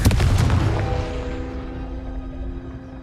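A single loud blast from the Confringo fire spell in Hogwarts Legacy, with a booming impact that fades into a long ringing tail.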